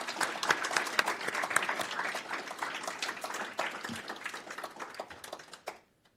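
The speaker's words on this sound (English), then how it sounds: "can we have a round of applause for the candidates?" An audience at a managers' meeting gives a round of applause for the candidates, dense and lively clapping at a distance that thins out and stops near the end.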